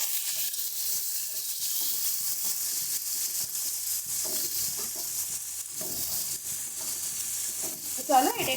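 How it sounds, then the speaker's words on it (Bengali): Potatoes and onions fry in a pan with a continuous, even sizzle, stirred now and then with scraping clinks that grow more noticeable toward the close. "পেঁয়াজ আর আলুটাকে ভালো মতন করে ভেজে নেব।"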